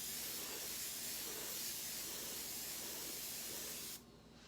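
Steady airbrush hiss as black paint is sprayed, a continuous close-up rush of air that runs for about four seconds and then cuts off sharply.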